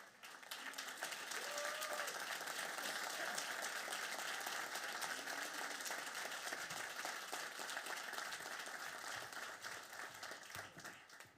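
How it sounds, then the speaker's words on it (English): Sustained audience applause fills an indoor hall, steady and moderately distant clapping from a large crowd that holds for about eleven seconds before tapering slightly. "Carol, Ray, and Nancy, would you stand up so we can applaud for you?"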